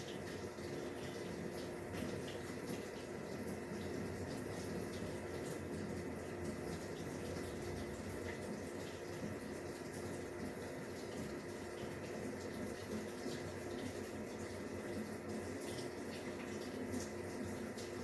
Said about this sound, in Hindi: अब हम इसका वेट करेंगे और 5 मिनट के बाद उसका टब पूरा फिलअप हो जाता है